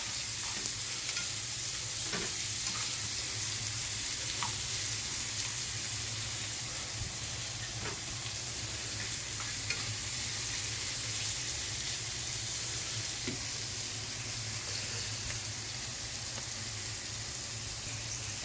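Onions sauté in a pan at home in Japan, a steady low sizzle with occasional clicks and scrapes of stirring over a constant hum from an exhaust fan.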